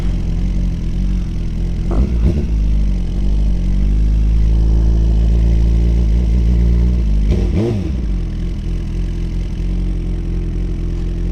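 Tuned 2025 Suzuki GSX-R1000R superbike engine running loud and close, a steady heavy drone with two sharp rev blips partway through, no talking.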